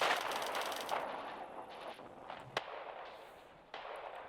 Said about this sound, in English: Firing barrage at Bravo 3.